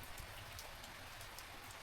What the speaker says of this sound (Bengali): বৃষ্টিটা বেশ ভালোই জোরে হচ্ছে